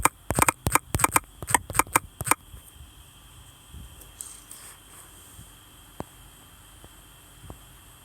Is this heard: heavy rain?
no